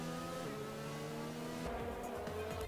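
Racing video game cars jostle during an inside overtake in a round held at a Vietnam circuit, a continuous layered engine drone with shifting pitches and a brief tire squeal, moderately quiet and without talk.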